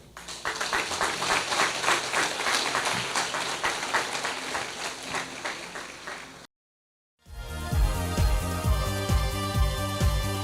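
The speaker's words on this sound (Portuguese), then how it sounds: "Vamos aplaudi-lo" A church congregation at a Friday evening healing and deliverance service claps steadily for several seconds, then a brief silence is followed by music.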